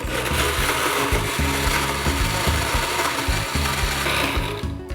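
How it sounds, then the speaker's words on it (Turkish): A blender whirs loudly and steadily, its motor grinding and rattling with repeated chunky knocks as it crushes ice cubes for a milky frappe, running without pause. "Ve bunları blenderdan geçiriyorsunuz."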